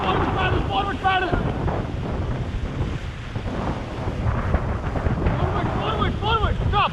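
Rafters paddling a river raft through rushing water at Rishikesh, with steady loud water roar and wind buffeting throughout, while voices shout and call out over it.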